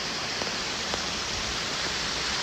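Water spills steadily over a backyard koi pond waterfall, a dense, even rushing wash close by with no voices.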